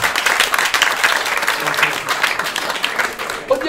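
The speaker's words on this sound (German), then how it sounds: "Ihr klatscht." An audience at a cabaret comedy show bursts into sustained applause, dense clapping from a crowd filling the room, loud and steady before tapering off at the end.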